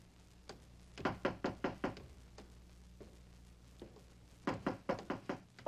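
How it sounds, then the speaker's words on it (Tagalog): Knocking on a door in a Filipino comedy film, heard as two bursts of four or five sharp raps each plus a few lone knocks, close and clear against a quiet room. "May kumakatok, may kumakatok."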